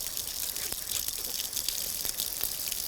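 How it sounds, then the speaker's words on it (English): Tap water runs steadily over tomato seeds being rinsed, a continuous close hiss and splash with no pauses and no voices. "Now we just got to run it through under some running water"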